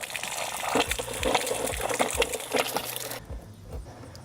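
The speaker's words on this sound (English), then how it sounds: "So that's going to open your valve and then drain out that water." Water gushes and splashes from an opened frost-proof outdoor spigot after its bonnet nut is loosened, a steady close draining flow that cuts off sharply near the end, leaving faint drips.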